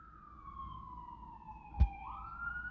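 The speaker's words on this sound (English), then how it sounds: "Here comes the siren." A police-type emergency siren wails in a long, steady descending tone that rises again near the end, fairly clear with a brief thump partway through and no talk over it.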